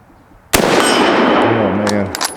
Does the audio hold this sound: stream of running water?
no